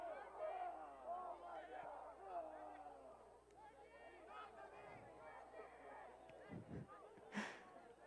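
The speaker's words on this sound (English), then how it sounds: "That sends the crowd wacko here." Crowd at a men's college soccer match between Mid-America Nazarene and Graceland erupts in loud, sustained shouting and jeering after an uncalled foul, with a commentator speaking over the noise.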